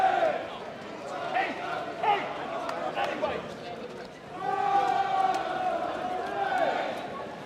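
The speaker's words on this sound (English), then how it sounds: "there is a massive crowd behind me of protesters marching through central London" A massive crowd of protesters marching through central London at a rally, a dense wash of many voices, chatter and shouts that swells louder midway and stays steady, close and continuous.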